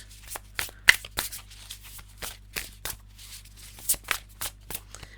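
Tarot cards are shuffled close up in a series of short, papery riffles and slaps, irregularly spaced bursts over a low steady hum, with no voices.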